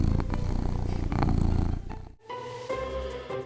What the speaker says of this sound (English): She nudges your hand with her tiny pink nose and bursts into the perfect purr.